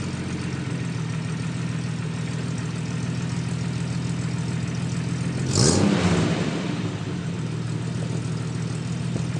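A Jeep YJ engine fitted with a new MagnaFlow exhaust idles steadily, then gives a single loud rev around the middle before settling back to a low idle rumble, heard close with no talking.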